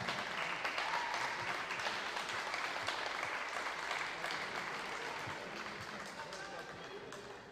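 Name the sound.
audience applauding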